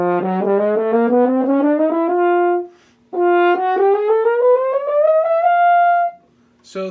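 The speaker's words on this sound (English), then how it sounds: "First what I'm going to do is play the usable range of the horn" French horn playing up its usable range from low C to high C, two clean rising legato runs of sustained notes, close and fairly loud with short breaths between and no talk.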